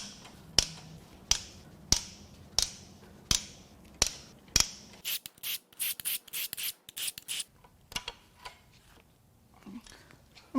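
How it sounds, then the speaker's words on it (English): Ratchet work on the connecting rod caps of a BMW/Mini N14 engine during teardown: a row of sharp, evenly spaced metallic clicks, then a busier burst of quicker clicks and rattles, close and clear with no talk. "Now we're just going to unbolt all 4 of the rod caps."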